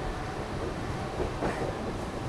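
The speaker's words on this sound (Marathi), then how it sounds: "आता आपली गाडी येत आहे ठाण्याला" Tejas Express train running between CSMT and Madgaon, heard from inside as a steady low rumble of wheels and carriage, moderately quiet and continuous without talk.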